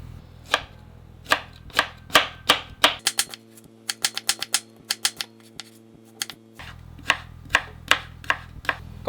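Knife shredding sour mango into strips on a cutting board, rapid rhythmic chopping taps close by, pausing briefly mid-way before resuming in an even steady beat.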